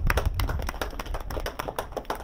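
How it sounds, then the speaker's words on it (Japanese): Applause greeting a fighter's introduction at a lightweight title martial arts event, with a fairly close crowd clapping in quick, irregular bursts that stay steady for a couple of seconds with no voice over it. "大きな拍手を送りください。"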